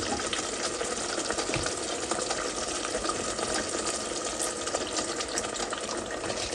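Water sizzling and bubbling in a pan of chicken and okra curry as it starts to simmer, a steady close hiss with no talk.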